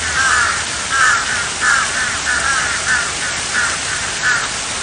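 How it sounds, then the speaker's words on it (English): Repeated harsh crow caws, about eight in a steady rhythm, fairly loud and close, with no talking. "crows are famous for their iconic caw sound"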